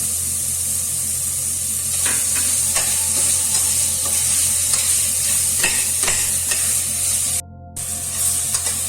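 Tomatoes sizzle steadily in a hot pan with ginger and garlic while a spoon stirs them, with scrapes and taps over the constant frying hiss and a brief dropout near the end.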